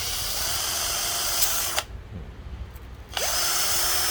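A power drill used to sand a fan shaft runs loudly, stops for about a second with quieter handling noise, then whirs back up to full speed.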